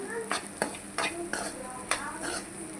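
Chilli powder stirred into a spinach and fish fry in a pan: a steady soft sizzle under repeated scraping strokes of a spoon, about five sharp scrapes in under three seconds, close and moderately loud, no talking.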